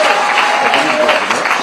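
A studio audience clapping during a live television talk programme, a short, dense and loud burst of applause with voices blended in.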